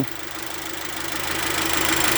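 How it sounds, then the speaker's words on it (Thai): A steady car engine idling close up right after arriving from a drive, engine at about 94 degrees, a constant low rumble with a faint knocking pulse, slowly growing a little louder. "ยังไม่ทันได้ดับเครื่องนะครับเพิ่งมาถึง"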